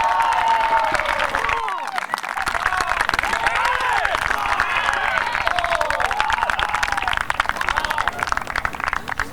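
A large crowd of over a thousand spectators at a college golf match-play event claps and cheers steadily, loud and continuous applause with shouts throughout, with a commentator's voice audible underneath.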